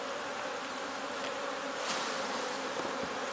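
Honey bees buzz steadily in a dense, close swarm as a beehive is opened for inspection, a continuous droning hum with no talk.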